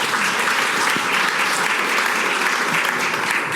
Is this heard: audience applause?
yes